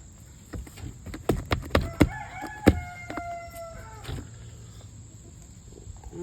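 A chicken on a backyard homestead gives a run of sharp clucks and squawks, some with a tonal crowing quality, clustered over a few seconds close by, then settles into quieter ambient noise.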